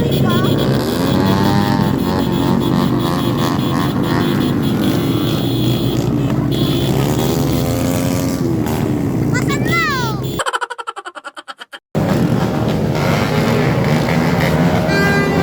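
Loud, continuous engine roar with rising and falling revs from several passing motorbikes on New Year's, broken by a brief dropout, while voices chatter underneath.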